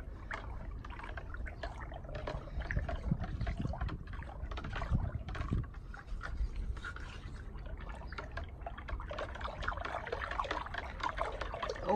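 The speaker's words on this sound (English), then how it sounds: "And again, we use our stick. Whatever we have, we start just mixing again." Compost tea liquid with humic acid and kelp powder is stirred with a stick in a container, producing continuous close sloshing, swirling and trickling water sounds at moderate volume without speech.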